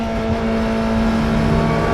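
A Czinger 21C, a 3D-printed hypercar, holds a steady, loud engine drone throughout with a strong constant tone, sounding like sustained high-speed running rather than a sharp rev.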